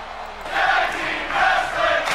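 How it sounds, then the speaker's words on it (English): Video game crowd at a WWE 2K23 wrestling match roars in a steady, dense wall of cheering, swelling in two broad waves with no clear individual voices. "And the crowd's loving it."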